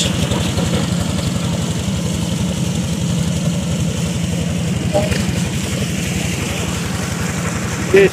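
A trawler boat's engine chugs steadily while crossing the Atrai river, a low continuous rumble with a regular pulsing throb that stays close and loud throughout, with faint voices in the background.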